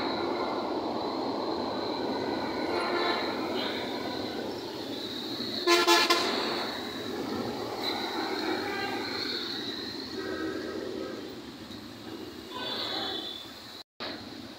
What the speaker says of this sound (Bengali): আপনারা দেখছেন একটি ট্রেন যাচ্ছে।